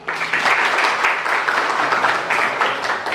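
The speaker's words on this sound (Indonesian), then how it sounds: "tepuk tangan untuk Novianti" Classroom applause for a student, a steady wash of many small hands clapping for about three seconds at moderate loudness with no voices over it.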